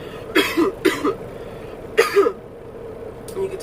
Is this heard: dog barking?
no